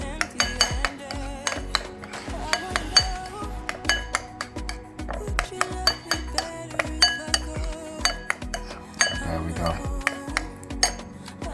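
A utensil knocks repeatedly against a bowl while burger sauce with sweet relish is mixed, giving a steady run of close clinks and scrapes over background music.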